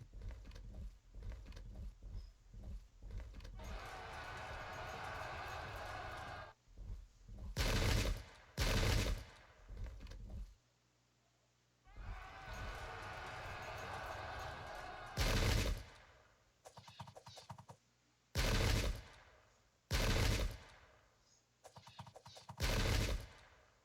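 Bursts of gunner volleys in a Sengoku Jidai multiplayer battle, dense crackling fusillades alternating with loud, sharp separate shots and brief lulls.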